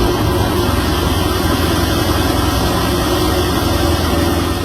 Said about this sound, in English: I'm hoping it's an exhaust tune and you can hear his exhaust